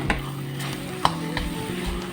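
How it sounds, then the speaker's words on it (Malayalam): Spoon stirring two spoons of chili powder and coriander powder into prawn coconut curry masala in a pan, soft scraping strokes with a faint sizzle and a sharp tap of metal on the pan near the middle. "2 സ്പൂൺ മുളക് പൊടി ഇട്ടിട്ട് നമുക്ക് ഇളക്കി നോക്കാം"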